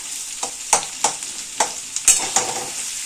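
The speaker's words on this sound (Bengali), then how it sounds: "এবারে আমরা পেঁয়াজটাকে একটু ভালো করে ভাজা ভাজা মতো করবো যতক্ষণ না পেঁয়াজের রঙটা ছাড়ছে" Sliced onions sizzle in oil in a pan for a Bengali prawn curry, with a steady, fairly quiet fry and a regular series of spatula scrapes and stirs about every half second.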